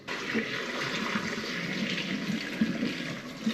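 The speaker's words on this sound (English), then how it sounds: "Let's strain these." Water pours steadily from a pot of boiled purple potatoes as they are strained, a continuous close rushing splash that holds for several seconds.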